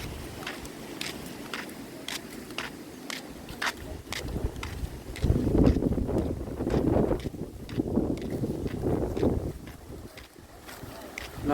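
Steady wind buffeting the microphone outdoors at a campsite in Buffalo Pound Provincial Park, gusting louder midway, with faint talk underneath.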